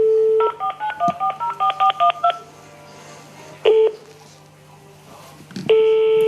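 A landline keypad redialing a prison line: a quick run of about ten sharp DTMF beeps, then a lone tone and a longer ringing or busy tone near the end, all close and loud with no talking.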